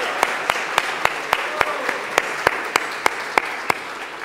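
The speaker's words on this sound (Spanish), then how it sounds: "Un aplauso para nuestro coro Voces de Alabanza." Audience applause for a church choir, a dense wash of many hands clapping at steady volume, with rhythmic sharper claps recurring about every third of a second.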